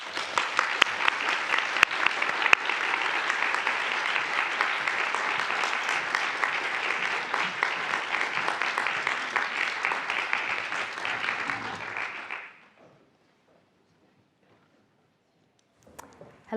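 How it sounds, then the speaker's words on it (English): A large audience at the Erna Hamburger Prize 2025 ceremony at EPFL gives a long, steady round of applause welcoming a speaker, sustained for about twelve seconds before stopping abruptly into near silence. "I invite you to welcome Dr. Rose Mutiso with a big round of applause."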